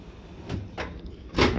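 A drawer pulled open in a cluttered garage, giving a few soft wooden scrapes and knocks, with the strongest pull near the end, close by and fairly quiet.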